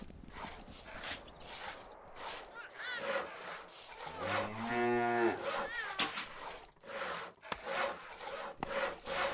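A cow lowing on a dairy farm in Stronghold: Definitive Edition, one long drawn-out moo at mid-distance amid a busy background of wooden sawing and rubbing work sounds.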